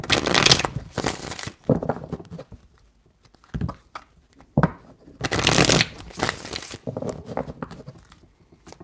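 A deck of tarot cards is shuffled by hand in several bursts of crisp riffling and fluttering, close and clear, separated by short pauses with occasional soft taps.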